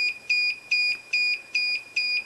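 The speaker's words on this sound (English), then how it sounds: "So if I break the beam, it sets off the alarm." A laser tripwire alarm buzzer driven by an Arduino beeps in a fast, steady pulse, six evenly spaced high-pitched tones sounding alone and clear.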